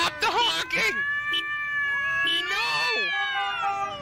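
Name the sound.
cats meowing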